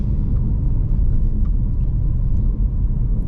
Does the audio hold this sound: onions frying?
no